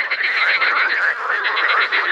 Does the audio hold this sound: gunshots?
no